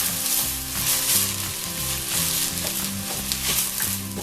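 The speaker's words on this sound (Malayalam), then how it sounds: "2-3 മിനിറ്റ് മീഡിയം ഫ്ലെയിമിലിട്ട് ഈ അരി ഒന്ന് വറുത്തെടുത്തു" Jeerakasala rice dry-frying in a pan over a medium flame for a Thalassery egg biriyani gives a steady, dense sizzle with faint stirring scrapes, close and continuous with no talking.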